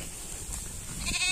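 A sheep from a flock of elite, twin-bearing breeding stock bleats once near the end, fairly close, over a steady outdoor farm background.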